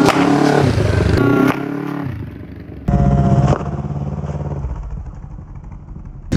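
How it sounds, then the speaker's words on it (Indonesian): A close, loud motorcycle engine revs while objects crunch and clatter beneath the wheels, with bursts of scraping and popping over the steady motor noise. "kita pengen tahu seperti apa kalau benda-benda itu dilindes pakai motor"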